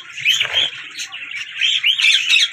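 A China dove, a breeder bird, calls among other birds in a bird-selling setting, with a run of bright, repeated chirping notes that carries clearly across the whole stretch with no talk over it.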